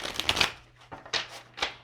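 A deck of cards is shuffled up close in a few quick riffling bursts: one longer flurry at the start, then shorter brisk riffles, with quiet gaps between and no talking.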